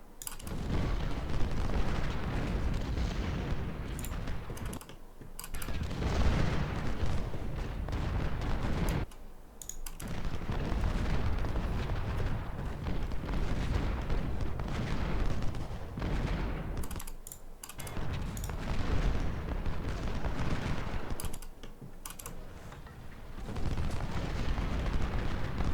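Cannon and artillery fire in the Ultimate General: Civil War video game booms in repeated dense bursts, separated by brief pauses, with clicking game sounds mixed in.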